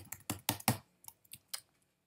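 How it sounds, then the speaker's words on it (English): Hard, heavy keystrokes on a computer keyboard: a quick burst of about four loud clacks followed by several lighter, scattered taps, close up with no talking. "I tap way too hard on my keys right now"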